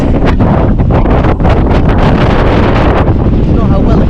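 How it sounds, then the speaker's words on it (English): Strong helm wind buffets the microphone high on Cross Fell in the Pennines, a loud, continuous roaring rumble with gusting surges throughout. "Can I hear the helm wind?"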